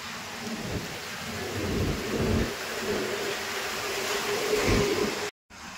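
Steady heavy rain from Cyclone Remal roars throughout with low rumbles of thunder rolling underneath on an empty Kolkata street, ending in a brief cut to silence.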